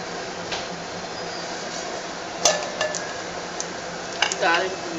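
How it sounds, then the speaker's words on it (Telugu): Tempering spices of dried red chillies, cumin and mustard seeds sizzle in hot oil, a soft steady crackle joined by a few sharp clinks of a utensil against the pan. "తాలింపు దినుసులు కూడా వేస్తాను అనమాట ఫ్రెండ్స్."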